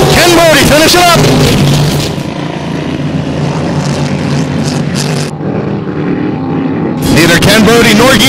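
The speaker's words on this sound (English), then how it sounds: "Neither Ken Birdie nor Gisele Marco's engine sounded very healthy to me." Unlimited racing hydroplane engines roar at a Webster Grand Prix qualifying session, loud and continuous, with a rough, uneven drone from a motor down a cylinder or two, while a commentator talks over them.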